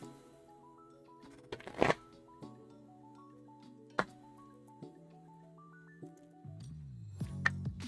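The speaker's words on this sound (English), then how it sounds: "is the shuffling too loud?" Sleeved Pokémon trading cards shuffled on a table, with a few short, crisp riffle bursts standing out over quiet background music.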